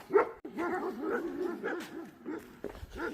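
Small dogs yipping and whining in short, high-pitched barks, close by and fairly quiet, with little pause between calls.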